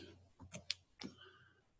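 A single soft computer mouse click on a Turn In button in Google Drive, a brief faint tick heard alone in a quiet room.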